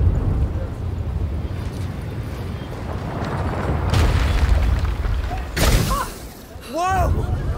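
A cannon firing in the video game A Plague Tale: Requiem, a loud booming blast over a rumbling ambient background, with a voice speaking nearby.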